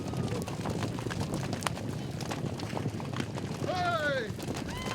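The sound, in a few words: horses galloping to pasture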